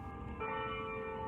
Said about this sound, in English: I'm standing by a bell.